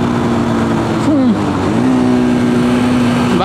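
A Tekken 250 motorcycle engine hums steadily, then briefly revs up and dips as the rider downshifts, settling back into an even drone; close and loud throughout.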